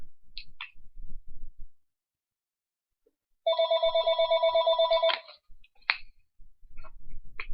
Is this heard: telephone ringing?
yes